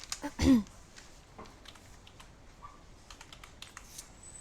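A name being typed on a computer keyboard, a scatter of soft key taps after a louder bump at the start, close and quiet.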